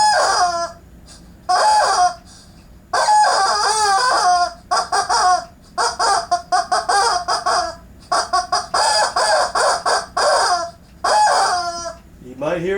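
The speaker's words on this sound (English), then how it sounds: "You might hear a chicken or two." Chickens cluck and a rooster crows in repeated loud bursts with short pauses between them, close by, filling the whole stretch.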